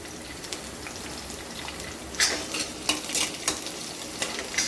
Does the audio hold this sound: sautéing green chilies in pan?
yes